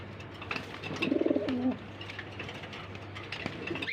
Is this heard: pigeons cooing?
yes